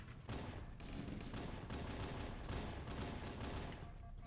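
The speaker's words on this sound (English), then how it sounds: "I'm spawning into enemy fire!" Dense, continuous gunfire from enemy players in Halo: Combat Evolved on PC, a steady barrage of shots running for the whole clip with no talk over it.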